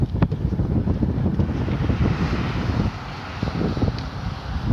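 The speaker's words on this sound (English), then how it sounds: "it's nice and breezy and cool." Steady breeze rushing across an open roadside area near a golf course on the way to Key West, Florida, heard as continuous low wind buffeting on the microphone, slightly easing midway before picking up again, with no talking.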